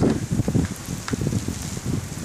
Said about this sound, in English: Wind is pretty strong.